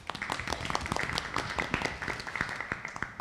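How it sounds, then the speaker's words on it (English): Scattered applause from a modest audience at a borough government cabinet meeting, many distinct individual claps spread throughout at a moderate distance, fairly soft and continuous. "Let's give Denise a round of applause."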